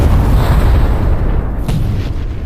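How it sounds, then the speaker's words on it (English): An explosion hits a Russian tank advancing in a convoy through wooded areas and minefields. It comes as a loud, heavy low rumble that fills the whole moment and slowly fades. "The lead tank is immobilized by an explosion."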